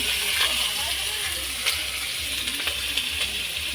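Onion tempering in hot oil over a wood-fired clay stove in a Bengali village kitchen gives a constant bright hiss and sizzle, heard close, with a person talking over it.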